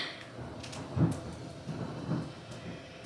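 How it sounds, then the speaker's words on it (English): Rumbling thunder rolls through a steady rainstorm, with two low swells about a second apart over a constant hiss of rain, moderately distant and without voices. "It's lightning and thundering and raining"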